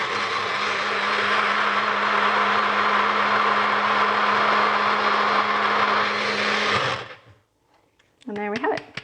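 A blender whirs loudly and steadily for about seven seconds, then shuts off and winds down, followed by a brief voice.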